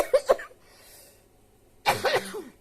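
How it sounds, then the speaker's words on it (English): Two quick coughs up close, a pause, then a rougher burst of coughing and throat-clearing from a person with a sinus infection. "I've been coughing like that every now and then"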